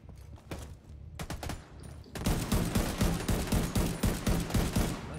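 Gunfire in a shooter video game starts as scattered sharp shots, then turns into a dense, rapid automatic burst for the last few seconds, loud and close with no talk.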